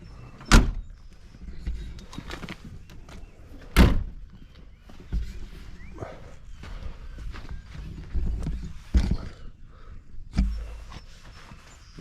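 Sticky doors on a 1995 Range Rover Classic being worked open and shut, several loud heavy thumps and clunks spaced a few seconds apart, with scraping and shuffling movement between them, close by.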